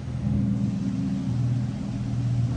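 A Lamborghini Huracan Evo passing on a Central London street, its engine a steady, loud low rumble that holds throughout with a slight swell, close by and with no talk over it.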